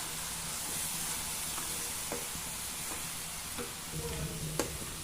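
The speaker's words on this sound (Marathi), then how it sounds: "छान आपलं हे सारण घट्ट होईपर्यंत आपल्याला काय करायचं परतून घ्यायचं" Beetroot and carrot laddu mixture is stirred in a pan, with a steady low sizzle under scattered spatula scrapes and taps. The cooking sounds run close and continuous, and no one speaks.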